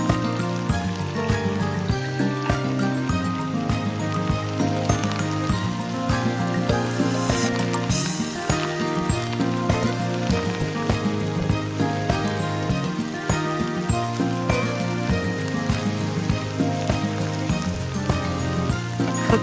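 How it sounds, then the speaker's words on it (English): Kangkong stems and leaves stir-frying in a pan, a continuous loud hiss and sizzle like rain on a surface, steady throughout with music playing underneath. "kangkong stems first and stir fry for about 30 seconds"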